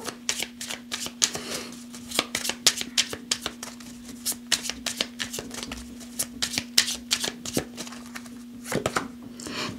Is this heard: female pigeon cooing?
no